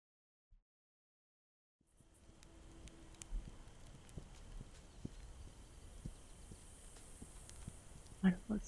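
Hooves clip-clop in a steady walking rhythm, faint against a soft windy ambience after a moment of silence, from a horse in the video game This Land Is My Land.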